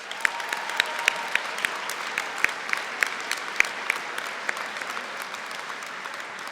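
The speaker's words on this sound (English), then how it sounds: "let's give them a special round of applause, shall we?" A graduation convocation audience gives a steady round of applause, a broad wash of many hands clapping with a few sharper nearby claps standing out, no talking over it.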